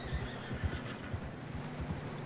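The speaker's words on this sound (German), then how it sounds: "Horses are getting tired." A horse in Red Dead Redemption 2 gives a tired, low snort and whinny, quiet and close, with faint hoof movement and ambient game sound underneath.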